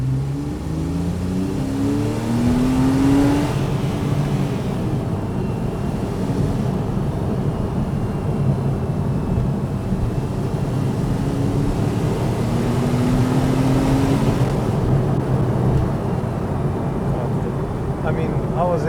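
A Porsche 911 997.2 Carrera 4S accelerates hard in sport mode. The engine note climbs in two long, loud, continuous pulls, heard from inside the car.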